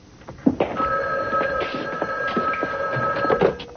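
A telephone rings in a steady, unbroken electronic trill, close and clear, lasting several seconds with nothing else over it.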